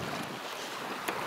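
A Red Fox sailboat running under spinnaker with the engine cut in light wind of about 5 knots, giving a steady broadband rush of wind and water past the hull, with a brief brighter splash near the end.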